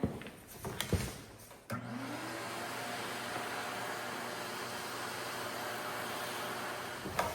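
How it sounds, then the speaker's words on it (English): After a few clunks and knocks, a vacuum cleaner starts up to clean a piece of furniture being restored, droning steadily with a whining hum, close and continuous. "And then give it a vacuum."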